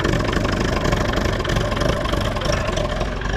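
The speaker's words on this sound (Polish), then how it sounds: "Ale ładnie silniczek pracuje" A Perkins 4P diesel engine idles on a Manitou MT 425 telehandler after a cold start in -15 °C frost. It runs close up with a steady, loud, slightly uneven rumble and clatter throughout.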